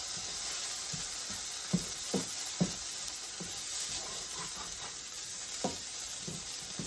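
Chicken sizzles in curry paste in a non-stick pan, a constant frying hiss broken by soft scrapes and clacks as it is stirred, heard close up with no voices.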